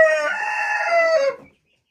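Domestic chickens and Brahma chickens in a backyard coop, a rooster crowing loudly and close for about a second and a half, with some clucking mixed in, then silence.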